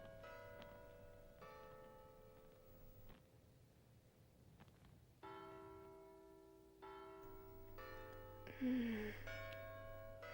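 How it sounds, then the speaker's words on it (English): Faint, distant church bells toll several times, each stroke ringing on and decaying slowly against a quiet background. "can you hear the church bells?"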